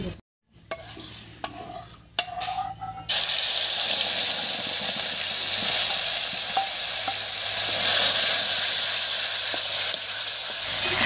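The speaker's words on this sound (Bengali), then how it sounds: "এবার গালিয়ে রাখা টমেটোটা দেবো।" Mashed tomato tipped into hot mustard oil already frying black cumin seeds and dried red chillies, sizzling loudly after a few quiet clinks, then a steady close hissing fry that holds to the end with no talking.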